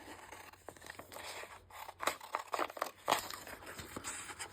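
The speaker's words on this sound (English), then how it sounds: "then I can just cut out one of my labels" Scissors snip through a paper label being cut out for a handmade envelope, giving a quiet run of short crisp cuts and paper rustles that grow a little louder toward the middle and end.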